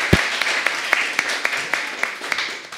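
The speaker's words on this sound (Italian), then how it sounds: "Applausi." An audience at a club-style show applauds a woman as she leaves: thin, fairly steady clapping runs through the whole stretch, with a few sharper individual claps standing out at regular intervals.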